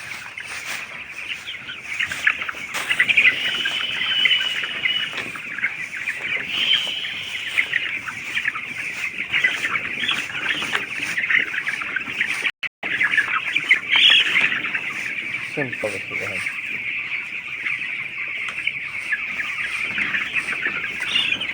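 A crowded chorus of chickens on a poultry farm clucking and squawking nonstop, dense and close, with a brief spoken remark partway through and a short gap.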